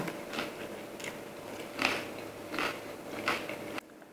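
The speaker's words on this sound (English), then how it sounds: "The tacos are nice and crunchy" Several crisp crunches spaced about a second apart, close and fairly quiet, as someone bites into crispy picadillo-filled taco shells.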